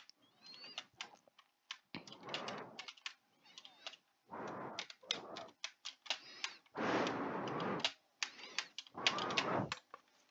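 Bursts of rapid clicking keystrokes on a computer keyboard come in irregular clusters separated by short pauses, close and crisp, with no talking.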